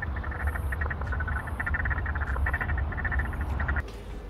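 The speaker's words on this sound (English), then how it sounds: "Listen, the frogs." Frogs croak in a steady, rhythmic chorus close by on a farm near a house paddock, with repeated pulsing calls running through the whole stretch and a low background rumble beneath, no talking.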